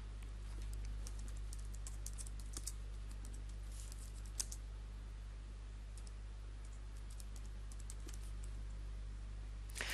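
Light computer-keyboard typing while details are entered into a medical discharge-summary form: a few faint, scattered key clicks over a steady electrical hum, with no speech.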